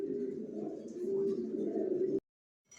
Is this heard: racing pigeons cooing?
yes